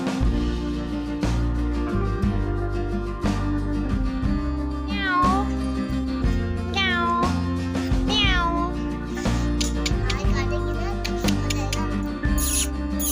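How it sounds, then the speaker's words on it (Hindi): A cat meowing several times, drawn-out rising and falling calls heard close over a steady background hum. "बिल्ली वहाँ बैठी थी ऊपर, तो थोड़ा सा मैं उसे मस्ती करने लगी"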